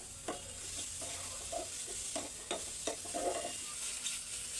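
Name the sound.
tomato pieces and cumin frying in a pan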